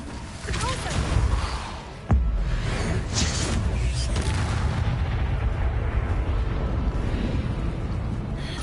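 Repeated Repulsor spell blasts in the video game Hogwarts Legacy, loud booming bursts with a sharp impact near two seconds, followed by a sustained rumbling wash of effects throughout.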